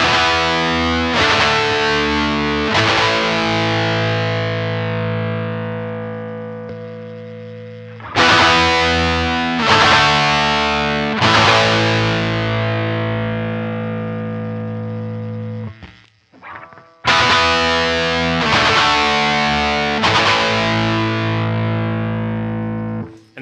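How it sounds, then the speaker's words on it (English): Heavily distorted electric guitar chords played through a Joyo Dyna Compressor pedal ring out in three long strummed passages, each sustaining and fading before the next loud strike. "let's hear some distortion on this thing"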